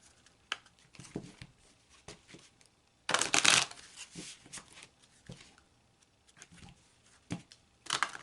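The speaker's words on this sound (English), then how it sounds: "I'm going to start by shuffling the cards" Tarot cards are shuffled close up, soft riffles and taps broken by a louder burst of rapid flicking midway, then quieter handling.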